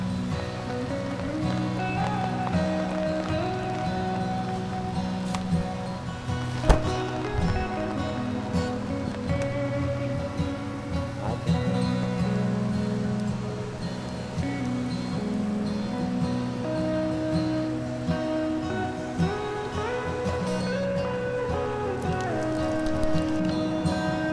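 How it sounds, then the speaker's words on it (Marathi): Steady, heavy monsoon rain in the Konkan pours down continuously, with dense patter on surfaces and a few louder drips standing out. "मस्तपैकी पाऊस पण आलेला आहे"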